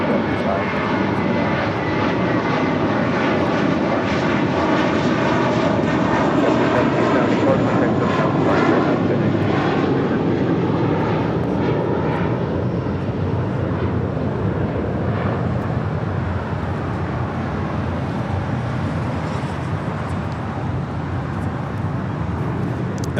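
A departing airliner bound for Newark roars from LAX, a loud sustained jet-engine rumble and whine that slowly shifts and fades, with people talking faintly beneath it.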